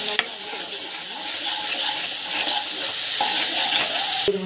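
Onion, garlic and mustard seeds sizzle steadily in hot oil, a dense close crackling hiss that stays even throughout, with a sharp clatter near the start and end.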